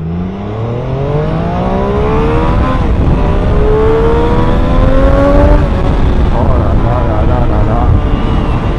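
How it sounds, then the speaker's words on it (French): A Triumph Street Triple 765 R motorcycle engine revs up close, its pitch climbing through the gears and rising and falling, loud and continuous. "Allez, on écoute le moteur."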